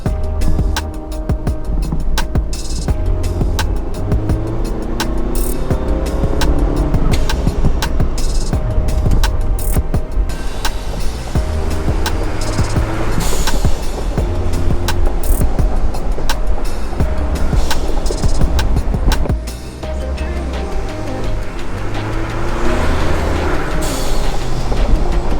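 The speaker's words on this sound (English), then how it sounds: "we got the bypass valve delete installed on our Bronco, so let's take it for a rip" A 2021 Ford Bronco's engine roars steadily as it drives, with rumbling low end, road noise and bursts of whooshing and fluttering from the intake after a bypass valve delete.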